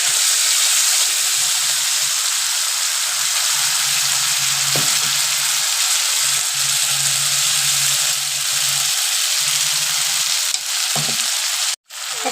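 Blended spice paste tipped into hot oil in a pan for a homestyle paneer curry, giving a steady close sizzle with soft stirring scrapes and a few brief knocks, continuing alone before a sudden cut near the end.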